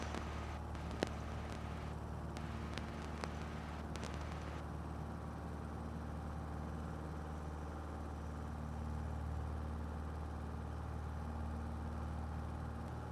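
A small aircraft with a new engine climbs out after takeoff from runway 23, its steady, fairly faint drone holding level throughout with no voices.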